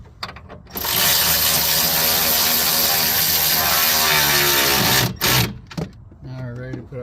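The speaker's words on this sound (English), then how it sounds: "then you'll put your 13s back in. Snug those up nice and tight." A ratchet or power tool snugs 13 mm radiator mounting bolts on a 2007-2014 Tahoe, Yukon or Escalade: a loud, close mechanical buzz for about four seconds, then short bursts.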